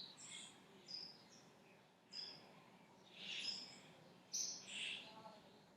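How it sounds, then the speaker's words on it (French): Faint birds chirp outside the room where a meditation is held, scattered high tweets and calls arriving in short bursts over a quiet room background. "Peut-être que vous entendez les oiseaux qui entourent la salle où je suis."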